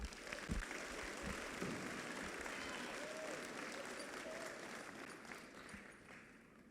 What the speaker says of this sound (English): Give a round of applause for those 4 students